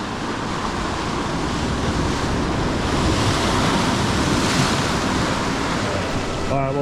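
Ocean waves break and wash over sharp coastal rocks on a camping shoreline, a loud continuous roar of surf with wind noise rumbling against the microphone.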